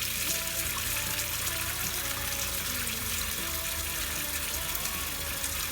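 A tap runs steadily, filling with a continuous close rush of water ready for rinsing dyed wool.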